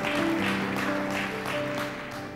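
A church congregation applauds during a sermon, dense clapping with a few rhythmic swells, while a sustained tone like a held keyboard chord or organ note hums underneath.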